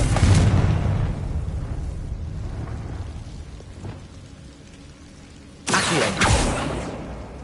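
A Confringo blasting spell explodes in Hogwarts Legacy: a loud initial boom fades into a rumbling tail, and a second sharp burst with crackling debris follows a few seconds later.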